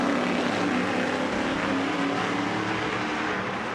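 Speed Energy Stadium Super Trucks race around the track, their engines roaring in a loud, continuous blur of revving motors that holds steady throughout.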